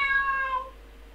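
A single cat meow from the video game Wolfenhain, clear and tonal, drawn out for about half a second before it fades.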